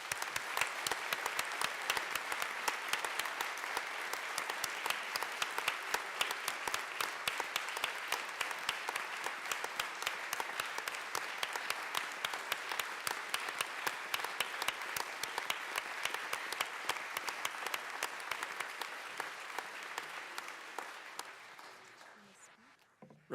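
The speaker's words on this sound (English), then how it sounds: "Please join me in a round of applause." Sustained applause fills the Colorado House legislative chamber for the OLLS staff, a dense steady clapping from many hands that holds for about twenty seconds before tapering off at the end.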